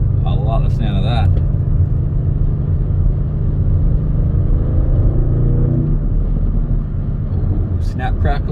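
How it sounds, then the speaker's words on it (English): A 2024 Audi RS6 Avant Performance engine in sport mode rumbles and revs steadily from inside the cabin, a deep throaty drone rising in pitch, with brief bits of voice at the start and end. "let's put her into sports mode and listen to this lovely engine"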